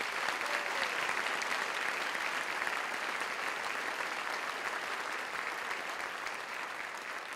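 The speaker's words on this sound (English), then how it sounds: "give another round of applause to our community supporters" Audience applause for community supporters who handed out scholarships, a steady, even hiss of many hands clapping at moderate distance, continuing without a break and tapering slightly toward the end.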